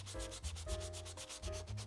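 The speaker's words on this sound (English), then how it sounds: "I've got some 200 grit sandpaper, and I'm just gonna get started sanding this." A leather shoe heel is rubbed with 200 grit sandpaper in close, steady back-and-forth strokes, a dry rasping rhythm of about a dozen passes with no voices.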